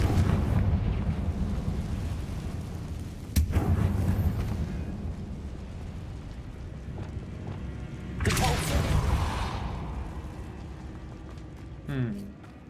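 In the video game Hogwarts Legacy, a Confringo fire spell goes off as a deep, rumbling explosion. Sharp blasts land near the start and around the middle, and a person talks over the low roar.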